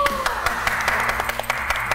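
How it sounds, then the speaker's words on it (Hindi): Someone claps hands in quick repeated strokes to quiet a room, sharp loud claps falling about every quarter second over a background hum. "वो तू क्यों ताली बजा रहा"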